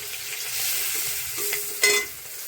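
Green chilies and turmeric sizzle in hot oil with cumin seeds, a soft steady crackle with a sharper burst of frying near the end and no voices.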